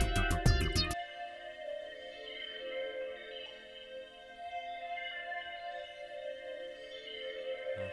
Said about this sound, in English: Just listen to the pad soloed.